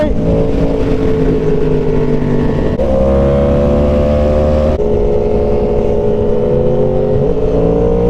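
A superbike engine, such as a BMW M1000RR, Suzuki GSX-R1000 or Yamaha MT-10, revs hard and loud during a wheelie, its pitch climbing in sustained strained sweeps with brief shifts, close and continuous over wind noise.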